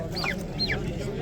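Chickens and roosters at a poultry bazaar, with two close, short rising-then-falling clucking calls over a steady murmur of market background noise.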